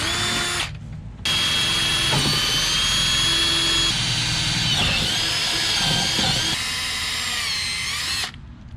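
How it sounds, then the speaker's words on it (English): A power drill whines loudly and continuously while boring holes in a boat for mounting transom lights and switches, with short pauses at the start and end and no talk. "So I'm just drilling some holes and putting them in here"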